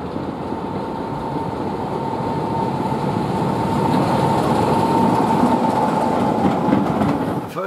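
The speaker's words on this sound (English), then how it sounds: "You can feel the power in the diesel. Like this one that's going past," A diesel train passes close by with a steady, heavy rumble and a sustained engine drone, growing slightly louder toward the middle and holding strong for several seconds, with no talk over it.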